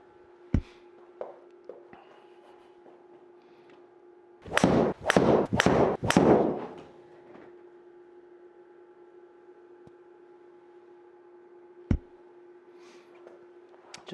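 Golf club strikes during a launch-monitor simulator session: sharp isolated impacts, then a burst of several loud thwacks in quick succession, then another lone crack, all close in a quiet indoor room with a steady hum.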